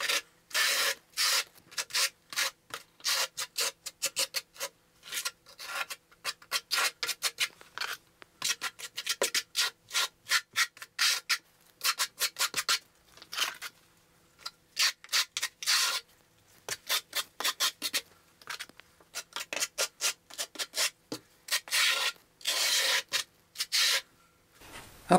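A wall tile for a shower surround is notched by hand beside a bathtub, giving a long run of short, rapid scraping and grinding strokes, close and uneven, with brief pauses between bursts and no talk.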